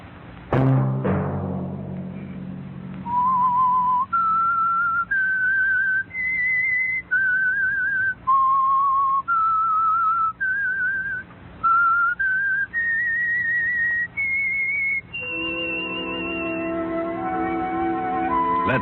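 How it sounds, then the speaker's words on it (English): A lone whistler performs the signal tune of The Whistler radio program, a clear, close melody of sustained notes rising and falling in a steady phrased sequence, ending in a held high tone over a faint musical backing. "Let that whistle be your signal for the Signal Oil program, The Whistler"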